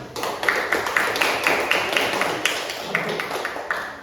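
A small group of pupils in a primary classroom clapping for a group of classmates, a brief patter of uneven hand claps at moderate volume.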